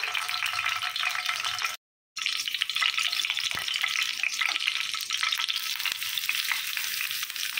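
Three bay leaves, four green cardamom pods and cinnamon frying in oil in a pan, a close, steady hissing sizzle that cuts out briefly and resumes with a few light knocks, no talk.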